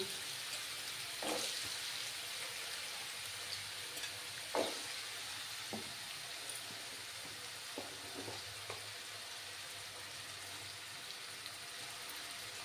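Small diced new potatoes frying in a pan, a steady faint sizzle with a few soft scraping stirs and clinks scattered throughout, no voices.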